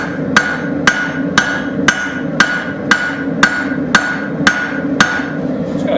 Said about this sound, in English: So now we're going to start shaping our blade. So I'm going to use my straight peen.